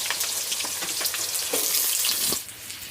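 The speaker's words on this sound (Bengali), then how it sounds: "এবার সবজিগুলো কিন্তু আমি সুন্দর করে ভেজে নেব" Vegetables for a spinach dish fry in a pan in a village kitchen, giving a continuous bright sizzle with soft stirring scrapes throughout. The sound is moderately loud and there is no talking.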